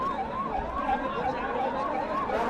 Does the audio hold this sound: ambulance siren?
yes